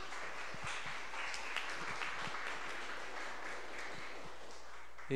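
An auditorium audience at a conference gives a speaker a steady round of applause, a dense, even wash of clapping that carries on without a break at a moderate distance.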